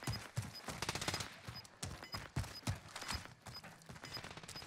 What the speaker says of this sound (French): Oh, ça tire là.